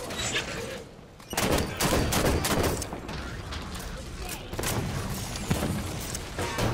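Rapid gunfire in the video game Halo 5: Guardians, with dense bursts of shots and impacts crackling almost continuously, loud and close, and a voice talking over the fighting.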